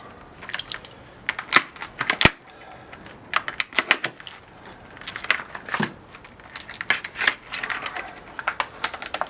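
A cutting tool trims plastic off a radiator in repeated clicking snips that come in quick bursts with short pauses between, close and fairly loud.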